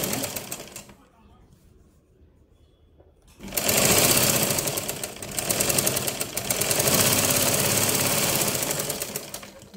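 A sewing machine stitches the side seam of a blouse, starting after a quiet stretch and then running in a loud, steady, rapid rattle with slight surges.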